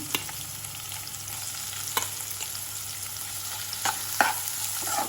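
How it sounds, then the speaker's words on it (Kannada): Chopped onions and green chilies frying in a pan, a soft continuous sizzle punctuated by occasional sharp spatula taps and scrapes, fairly quiet and close, with no talking. "ಇದನ್ನು ಚೆನ್ನಾಗಿ ಫ್ರೈ ಮಾಡ್ಕೋಬೇಕು."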